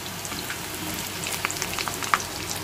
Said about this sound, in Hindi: एकदम हल्के हाथ से हिलाएंगे, पलट पलट करके अच्छे से पका लेंगे, फ्राई कर लेंगे।